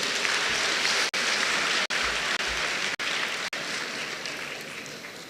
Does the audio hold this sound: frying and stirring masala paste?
no